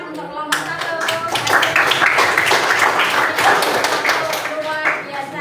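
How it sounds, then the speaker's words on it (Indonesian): A classroom of students claps for a presenting group, a lively burst of many hands close by, with children's voices and chatter mixed in over the clapping. "Tepuk tangan untuk kelompok 1"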